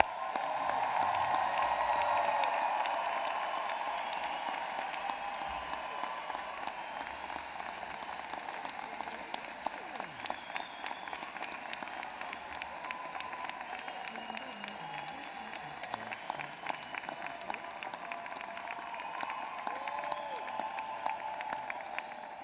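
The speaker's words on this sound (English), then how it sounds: "join me in applauding SMU's newest Lyle School of Engineering" A crowd of families and students at the SMU Lyle School of Engineering diploma ceremony applauds the new engineering alumni, sustained clapping with scattered whoops and cheers, loudest at the start and continuing evenly.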